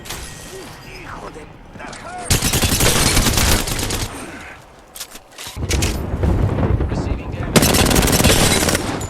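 Gunfire in the shooter game Apex Legends: dense bursts of rapid automatic fire in two long volleys separated by a brief lull, loud and close, with a voice talking over it.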